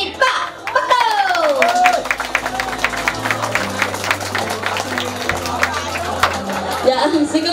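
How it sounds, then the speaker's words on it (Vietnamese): Guests at a Vietnamese wedding clap in a steady round of applause that runs the whole stretch, with a master of ceremonies speaking and voices carrying over the clapping. "chúng ta hãy cùng nhau chuẩn bị một tràng pháo tay thật lớn nha thưa quý vị"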